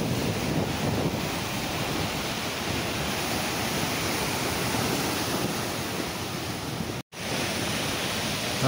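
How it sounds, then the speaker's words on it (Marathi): High-tide sea waves surging hard against the Mumbai shoreline, a dense continuous roar of surf mixed with wind buffeting the microphone, loud and unbroken apart from one brief dropout. "लाटा किती जोरात येऊन समुद्राच्या किनाऱ्याजवळ आदलत आहेत"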